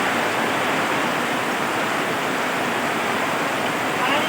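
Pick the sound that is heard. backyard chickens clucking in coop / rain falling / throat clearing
rain falling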